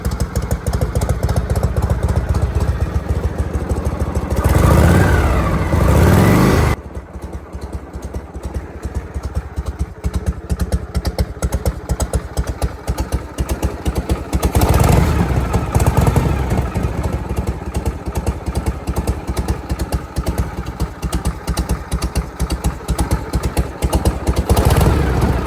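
A Harley-Davidson Panhead motorcycle engine runs loud and close throughout, a steady idling rumble with a louder surge in the middle and again later, with no talk over it.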